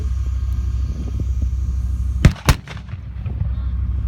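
A Leopard 1 tank's main gun fires during a mock battle against an M60 Patton, two sharp loud reports about a quarter second apart over a steady low engine hum.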